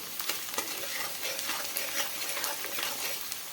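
Raw papaya bhaji frying in a pan over a low flame, a steady soft sizzle broken by repeated scraping stirs, close and continuous, with no voices.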